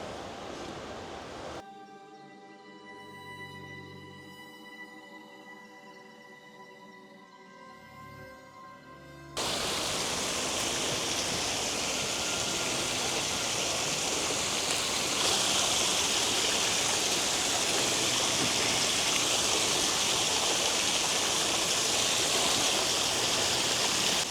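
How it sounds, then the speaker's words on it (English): Small waterfall along a wooded trail at Burgess Falls, heard after a quiet opening with some tonal background, then a sudden steady loud rush of falling water that continues unbroken and close. "I got you facing the little waterfall that's coming down here."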